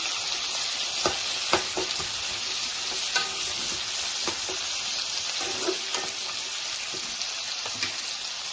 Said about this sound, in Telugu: ఆనియన్స్, పచ్చిమిర్చి కొంచెం ఫ్రై చేసుకున్నాం